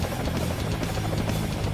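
A helicopter's rotor thumps steadily, a loud, continuous rhythmic chop filling the moment.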